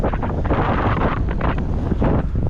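Strong wind buffets the microphone in a constant, roaring rush with gusty surges, loud and close, no voices.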